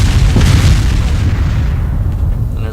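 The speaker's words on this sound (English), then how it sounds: "there's a lot of explosions going on" Heavy explosions boom in a military shooter video game, ArmA: Armed Assault, as one loud deep blast rolls out and decays into a rumbling tail, with no talk.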